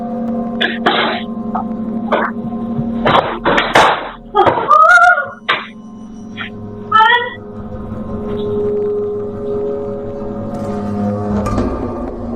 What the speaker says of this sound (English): Ghostly encounter with a cat, captured by a CCTV camera.